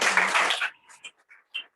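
Meeting attendees clap in a dense burst of applause for about three quarters of a second, then it drops away to a few faint scattered sounds and soft voices.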